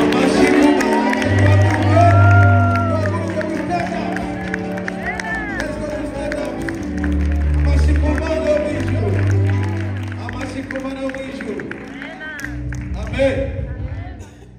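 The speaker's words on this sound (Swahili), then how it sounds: "Makofi na sisi" A crowd at a church gathering claps and cheers with whoops, layered under loud singing and talk, the applause rolling on steadily across the scene.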